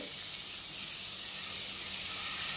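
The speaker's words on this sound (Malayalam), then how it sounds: "ചില്ലി ഗാർലിക് പേസ്റ്റ് കുറച്ചിട്ട് കൊടുക്കാം." Chili garlic paste sizzles steadily in a hot frying pan while Schezwan veg fried rice is being cooked, a close, even hiss that holds without a break.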